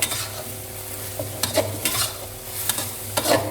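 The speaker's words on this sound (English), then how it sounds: "Toss everything well and turn off the heat." Thai basil chicken with bamboo shoots, red pepper and holy basil gets tossed in a hot pan, giving a soft sizzle with several scraping clatters of a utensil against the pan, close and clear, with no voices.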